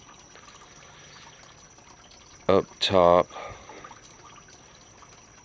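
Water trickles steadily from a small waterfall in a backyard bucket pond with goldfish. The flow is soft and continuous, and a person speaks briefly over it.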